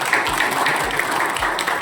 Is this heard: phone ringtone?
no